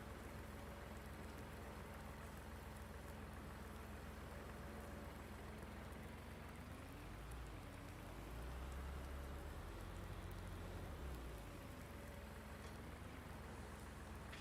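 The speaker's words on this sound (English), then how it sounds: "It's been a long time since you've heard the sound of rain. It's nice hearing it, even if it's just in-game." Steady in-game rain falling in Farming Simulator, a continuous dense hiss that stays even throughout, with a low rumbling swell rising through the middle and fading out.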